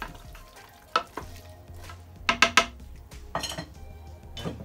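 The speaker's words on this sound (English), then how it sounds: "give it a stir" A spoon stirs lamb neck stew with butter beans in a pot, giving close scraping and sharp metallic clinks against the pot, with a cluster of louder knocks midway over a low simmer.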